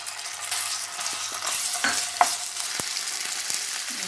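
Ginger garlic paste dropped into hot oil in a kadai, a close crackling sizzle with stirring clinks, no talk.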